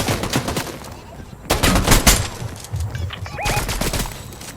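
Bursts of video game gunfire crackle in rapid volleys during a shooter match, loud sustained rattles separated by brief lulls, with voices talking over the shooting.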